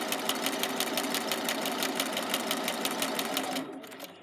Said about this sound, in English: Put a little bit of a back stitch, stitch forward, and this time I'm going to keep it on my 5/8.